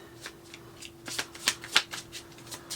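A deck of tarot cards shuffled by hand in a quiet room: a close, crisp run of separate riffling bursts that come irregularly and grow louder and denser midway.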